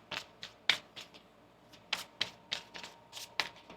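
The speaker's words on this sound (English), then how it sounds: "One more shuffle here." Tarot cards are shuffled close by in a series of crisp riffling flicks and snaps, irregularly spaced bursts with short pauses between, fairly quiet and without talk.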